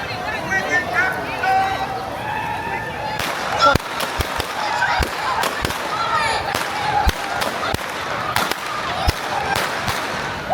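Sharp staged gunshots ring out repeatedly at a Ghost Town show at Knott's Berry Farm, several loud cracks spread over the scene amid crowd chatter and distant voices.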